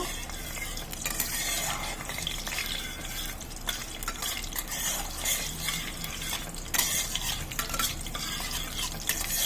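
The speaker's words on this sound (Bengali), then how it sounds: "গোটা ছোট এলাচ দুটো ডালচিনি কুঁচো দিয়ে দিলাম দিয়ে একটু এগুলো একটু মেরে নেব" A spatula repeatedly scrapes and stirs whole cardamom and cinnamon frying with onions in a pan, rhythmic close scraping over a bubbling sizzle, with no talking.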